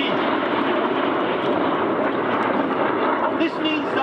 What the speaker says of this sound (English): You may be able to see that the aircraft are flying with their air brakes out.